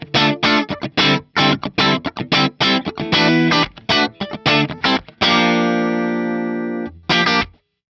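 Clean electric guitar through a Fractal Fender Bandmaster amp model into Dumble-style cabinets: a run of quick plucked notes and chords, then one long ringing chord left to decay, a short final stab, all up close with no talk.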